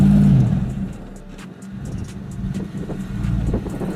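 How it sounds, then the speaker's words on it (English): Hummer H2 engine revving hard while climbing an off-road obstacle, a steady low growl that surges as the gas pedal is held, close and continuous with rough rumbling underneath. "The H2 rolls back a little and tries to conquer the obstacle, holding the gas pedal a little longer."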